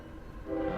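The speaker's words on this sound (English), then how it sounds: "Please do excuse the train, by the way, if you guys can hear." A passing train outside, a low rumbling drone with a rising horn-like tone swelling in the final moments, faint in the background.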